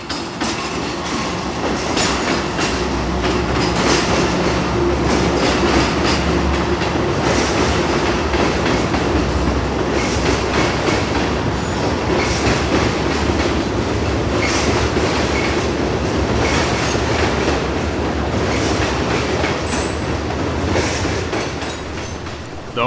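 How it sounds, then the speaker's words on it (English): Freight train L700 rolls south out of Tampa carrying empty Tropicana cars bound for Bradenton, passing in a sustained, loud rumble with continuous clickety-clack of wheels over rail joints and occasional metallic squeals. "L700 rolls south out of Tampa with some Tropicana empties from Cincinnati bound home for Bradenton"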